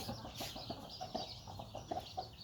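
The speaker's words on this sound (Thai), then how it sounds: "ขุนแผนนี่เป็นไก่ตัวที่พี่เอียวเคย" A rooster, a fighting cock of the Sam Iao line, clucks in short repeated bursts close by, with other fowl noises in a busy farmyard setting and no talk.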